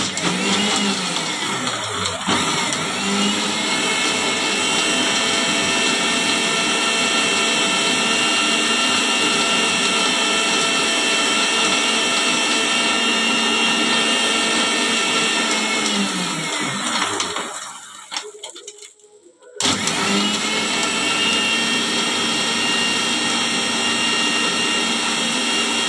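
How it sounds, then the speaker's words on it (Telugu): A kitchen mixer grinder (mixie) whirring at a steady high-pitched drone, cutting out briefly near the end and starting again at full speed. "మిక్సీ పట్టింది పడబోతుంది"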